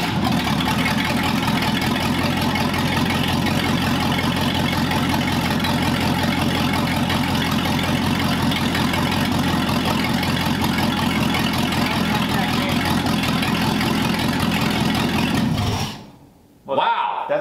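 A Cadillac engine fitted in a 1938 Ford, running for the first time in over 50 years, holds a loud, steady, rumbling idle close by for about sixteen seconds, then abruptly cuts out.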